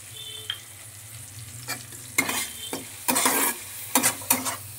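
Mashed okra with turmeric fries in a pan with a steady sizzle, broken by several bursts of stirring and scraping as it is turned over.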